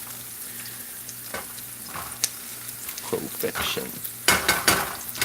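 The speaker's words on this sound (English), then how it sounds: "Saute these onions lightly right now, just get them where they're wilting." Onions sautéing in a pan for a squirrel dish, a steady sizzle with scraping stirs and clatters that grow louder near the end; a voice speaks briefly.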